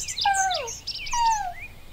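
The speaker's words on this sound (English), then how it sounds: "So quail, that's a male quail that's going." A male quail calls in an outdoor ambient setting: two clear, rising-then-falling chirped notes about a second apart, fairly close and distinct over a quiet background, with no talking.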